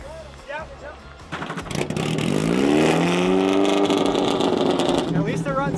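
A replica F1 car engine runs after a push start, rising from a sputter into a steady, loud revving drone, with people talking nearby.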